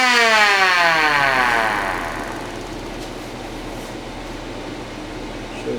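A homemade wooden siren lets out a loud, close growl that starts high and winds steadily downward, then settles into a lower rumbling drone, with a brief bump at the very end.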